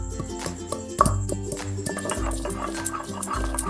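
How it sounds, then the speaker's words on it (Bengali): Ginger and garlic being ground into a paste, likely on a grinding stone, with close, repeated low thuds and rubbing scrapes in an uneven rhythm and no talking. "প্রথমে আদা আর রসুনটা বেটে নেব।"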